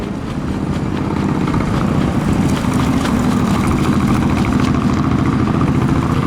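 A Suzuki Intruder VL400 motorcycle engine runs steadily and loudly close by at a motorcycle gymkhana event, its throbbing exhaust holding an even rumble throughout with no voices heard.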